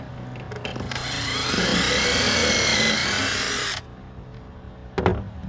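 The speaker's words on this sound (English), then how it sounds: "The drill going through the jig." A power drill whines as it bores through a wooden jig for about three seconds, then stops abruptly, followed by a brief clatter.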